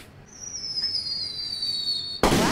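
A firework in The Quarry video game gives a long thin whistle that slowly falls in pitch as it rises, then ends in a sudden sharp burst, close and loud, with no talking.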